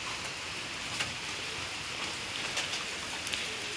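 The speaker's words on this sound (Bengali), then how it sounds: "এই যে দেখেন বৃষ্টি হইতেছে" Rain falls steadily, a dense, even wash of drops with a few brighter patters on nearby surfaces, continuous and fairly close, with no voices.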